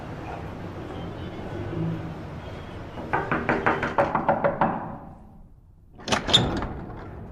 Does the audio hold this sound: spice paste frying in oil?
no